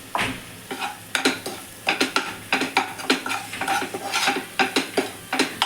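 Repeated scraping and sizzling as a spoon stirs egg-curry masala in hot oil in a kadhai, steady irregular strokes close by with no talking.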